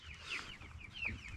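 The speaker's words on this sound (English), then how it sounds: "the two red hens that I have" Two red hens cluck softly on a ranch, a pair of short, rising calls heard close by and alone over quiet background.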